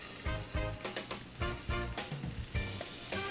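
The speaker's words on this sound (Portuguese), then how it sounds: "dá uma untada na panela e vamos fritar" Meatballs fry in olive oil in a pan over raised heat, giving a steady close crackling sizzle with repeated bursts of spattering and popping throughout.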